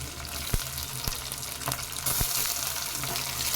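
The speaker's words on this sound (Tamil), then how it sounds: "இப்போ இதை நல்லா வதக்கிக்கணும்." Garlic and onions sauté in a pan for a Tamil garlic curry (poondu kuzhambu), a steady close sizzle with soft stirring scrapes and a few sharp clicks, no talk.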